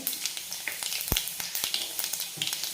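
Cumin seeds and urad dal sizzling in hot tempering oil, a close crackling fry with sharp irregular pops and spits over a soft continuous hiss.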